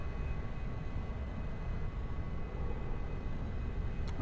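A jet airliner in the X-Plane 11 flight simulator taxis toward the runway, its engines giving a steady low rumble and a constant broadband roar with a faint high whine, unbroken throughout.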